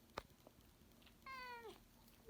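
A cat up in a tree gives one short, faint meow partway through, with a few soft rustles and knocks around it.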